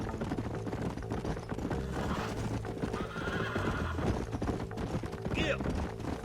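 Horses in Red Dead Redemption 2 whinny and clop their hooves steadily throughout, set against a dense game soundtrack with music and ambient bustle; a high neigh rises near the end.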